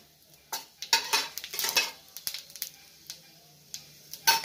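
Cumin seeds and a dried red chilli hit hot mustard oil in a pan, giving a soft sizzle under intermittent sharp scrapes and clinks of a spoon stirring against the metal.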